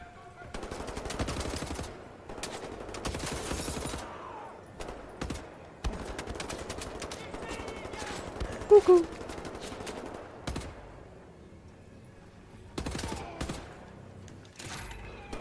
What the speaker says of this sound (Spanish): Escopeta.